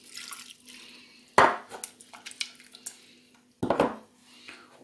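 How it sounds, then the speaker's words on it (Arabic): A glass of water tipped into a cooking pot holding sliced dried plums and ingredients for a chicken pastilla, two loud splashing pours with clinking of the metal pot between, close and without talk. "وغادي ندير فيه كاس ديال الماء،"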